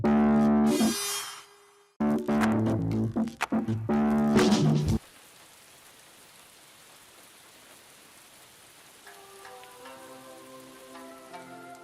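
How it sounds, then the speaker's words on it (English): Steady rain hisses evenly over everything after a loud burst of music cuts away, a soft, continuous wash with faint tonal notes returning near the end. "we woke up and it was raining"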